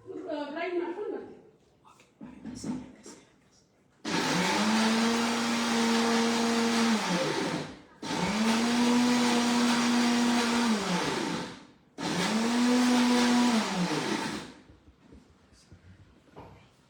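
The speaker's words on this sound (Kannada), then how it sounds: "ಇವಾಗ ನಾನು ಇದನ್ನು ಗ್ರೈಂಡ್ ಮಾಡ್ಕೊಂಡು ಬರ್ತೀನಿ." A mixer grinder blends mango with fresh cream in three loud, sustained whirring bursts separated by short pauses. Brief speech and handling noises come before the first burst.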